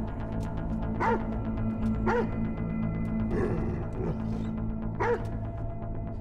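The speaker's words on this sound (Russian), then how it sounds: "Так собака оказалась-то жива" A dog in the horror game Die Young gives repeated short yelping barks and whimpers at roughly one-second intervals over a steady droning ambient background with faint clicks.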